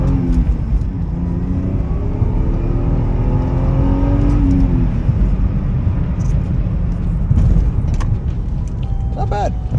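A stock manual Lexus IS300 engine revs up under way, a loud steady rumble with rising and falling engine tones over road and wind noise, with no talking.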